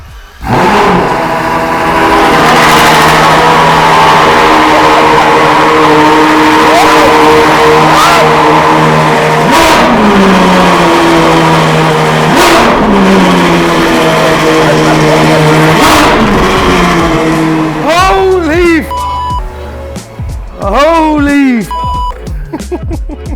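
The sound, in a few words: Ferrari V12 engine starting and revving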